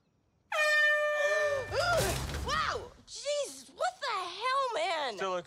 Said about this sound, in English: Was the air horn really necessary?